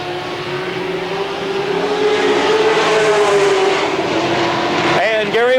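Race cars lapping the Motordrome Speedway oval during a 1992 race, a loud sustained engine drone rising and falling in pitch as cars pass, with someone speaking briefly at the end.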